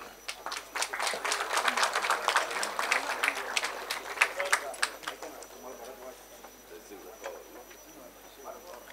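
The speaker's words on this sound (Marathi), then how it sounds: "टाळ्या कमी वाजतायत, आपण जोरात वाजवूया" Thin, scattered clapping from an audience at a welcome ceremony, a sparse patter of hand claps that stays modest and tapers off toward the end, with voices mixed in.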